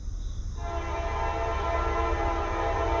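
A Norfolk Southern freight train roars past close by, its horn blaring a long, steady chord over the rumble of the rail cars, with no talk.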